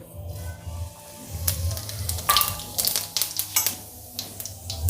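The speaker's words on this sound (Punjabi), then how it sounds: "ਤੇਲ ਗਰਮ ਹੋ ਗਿਆ ਹੁਣ ਆਪਾਂ gas the flame medium to ਲੋ ਕਰ ਲਵਾਂਗੇ ਤੇਲ ਵਿੱਚ ਸਭ ਤੋਂ ਪਹਿਲਾਂ ਆਪਾਂ 1 ਚਮਚ ਜੀਰੇ ਦਾ ਪਾਵਾਂਗੇ" Cumin seeds crackle and sizzle in hot oil in a pan on a medium-low gas flame, with a steady close fry broken by sharp spitting bursts and a few light clinks of a utensil.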